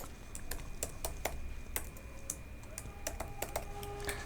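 Close computer keyboard typing while coding a responsive React website with React Router and Bootstrap, an uneven run of crisp individual key clicks at a quiet level, with no voices over it.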